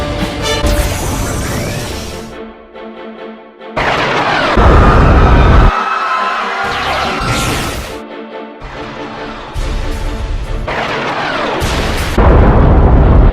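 Cannon bombardment in an animated sci-fi battle scene: a series of loud, close booming blasts and crashing impacts in quick bursts, separated by brief near-silent gaps, with heavy rumbling tails.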